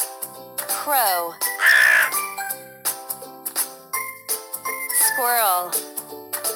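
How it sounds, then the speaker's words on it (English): Crow cawing in a children's animal puzzle game, harsh caws heard over cheerful tinkling game music and chimes, close and loud, with a voice naming animals. "Crow."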